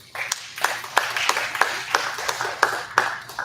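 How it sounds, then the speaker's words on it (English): Scattered clapping from a small audience at a jazz concert and masterclass, sharp individual claps landing every fraction of a second at a moderate distance in a quiet room. "So please give them a nice round of applause."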